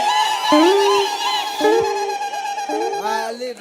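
A church congregation cheers and ululates, with high wavering trilled voices rising and falling over a steady crowd roar for a few seconds, loud and close.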